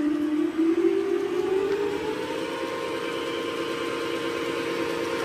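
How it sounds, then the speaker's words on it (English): The VFD-converted motor on a Kerry AG lathe spins up, its steady whine rising smoothly in pitch over a constant mechanical hum. "we're overspeeding the motor to get a max speed at the spindle of 2000"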